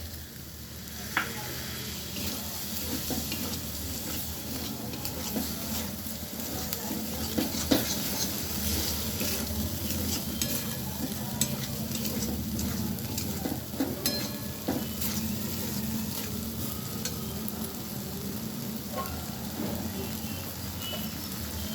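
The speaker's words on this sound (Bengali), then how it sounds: "মশলাটা ভালোভাবে ভেজে নেওয়ার পরে আমি এবার ভিজিয়ে রাখা গোবিন্দভোগ চালটা দিয়ে দিচ্ছি" Soaked Gobindobhog rice hitting hot fried spices and tomato paste in a pan, giving a loud, continuous sizzle with crackling and stirring scrapes throughout, close and without speech.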